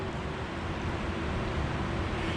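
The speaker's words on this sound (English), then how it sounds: "I don't know if you guys can hear the cars going past like right now" Steady broadband roar of distant I-75 highway traffic below a wooded overlook, a continuous wash of passing cars with no distinct individual vehicles, heard alone.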